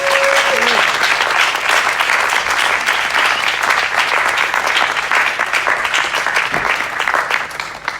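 Sustained applause from an audience at a Sheffield Doc/Fest 2019 film and talk session, loud and dense, steady clapping filling the room throughout with a faint voice near the start.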